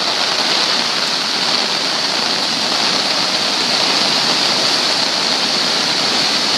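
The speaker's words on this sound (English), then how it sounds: "It's the F Street flood." Floodwater roars down F Street near Colman Creek in Little Rock, Arkansas, a loud, steady, broadband rush with no break or change across the whole stretch, heard close up with no voices.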